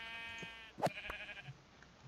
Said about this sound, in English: let me go kill some sheep first